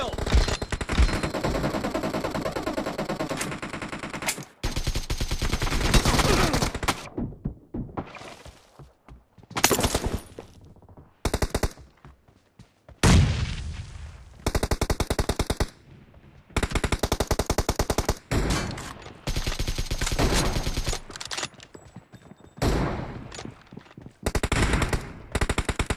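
Gunfire in the mobile game PUBG, rapid automatic bursts and single shots in dense clusters separated by brief silences, loud and punchy, with occasional game voice callouts.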